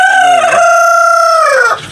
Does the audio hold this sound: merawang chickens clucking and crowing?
yes